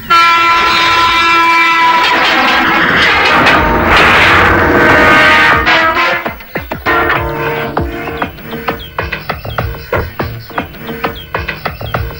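A train passes on a nearby railway track in a film scene: a loud horn blares over heavy rumbling for several seconds, then the roar drops to a rhythmic clickety-clack of wagons rolling by.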